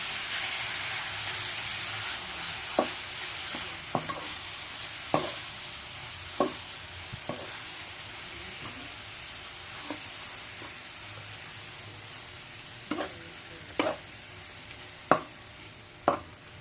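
Chicken ginataan sizzles steadily in a pan while a utensil stirs it, with a dozen sharp scraping clacks spaced irregularly over a constant frying hiss.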